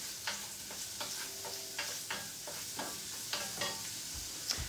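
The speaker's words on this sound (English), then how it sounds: "got my pan on heating, and I'm going to add the onion" Onion frying in a hot pan, a soft continuous sizzle broken by repeated scraping stirs at a fairly even pace, close and fairly quiet, with no talking.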